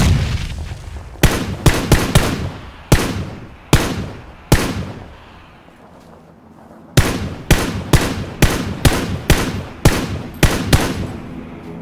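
Loud, close gunshots crack in uneven bursts, single shots and quick strings with a lull in the middle, gunfire in PlayerUnknown's Battlegrounds; no talking.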